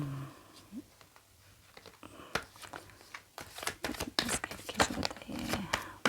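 Tarot cards are shuffled in quick papery bursts and flicks that grow busier and louder toward the end, close and crisp in a quiet room.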